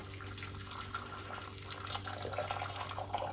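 Water pours steadily into a brewing pot, a quiet, continuous splashing trickle that grows slightly fuller toward the end.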